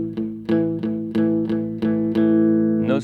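An electric guitar played through the back pickup with light distortion chugs a palm-muted power chord repeatedly, about eight short evenly spaced strikes, close and loud, with no talking.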